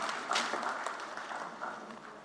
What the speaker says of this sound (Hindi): जोरदार तालियों के साथ स्वागत करते हैं।